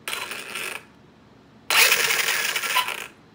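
The brushless motor of an Arrma Mojave 6S RC car with a BLX185 system fires in two abrupt throttle bursts of loud, close rushing noise, separated by a short quiet gap.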